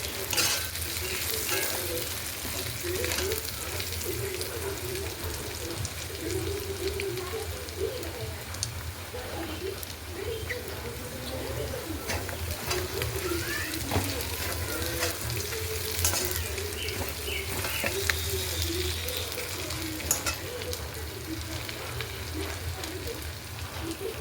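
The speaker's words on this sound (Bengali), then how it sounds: "দেখতে পাচ্ছ মাংসটা প্রায় আমার কষানো হয়ে গেছে।" Mutton being stirred and fried in a pan for a khasir mangsho curry with ash gourd, a steady sizzle with scraping stirs running throughout, close and fairly loud, with faint bird cooing in the background.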